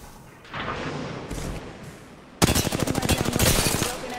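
Gunfire in the video game Apex Legends: a muffled burst comes first, then rapid automatic fire sounds loud and close in a dense rhythmic stream, with no talking.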